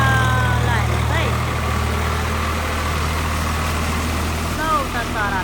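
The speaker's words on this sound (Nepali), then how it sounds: "ट्र्याक्टर बजेर केही सुन्दैन" A tractor engine drones loud and steady while ploughing a flooded rice paddy, with a voice talking over the rumble and brief higher whines surfacing now and then.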